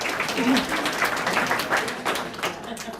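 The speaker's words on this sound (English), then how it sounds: "give yourself a round of applause" An audience claps at a Senior Olympics awards ceremony, a steady, dense patter of many hands filling the room for the full three seconds, with voices mixed in beneath the applause.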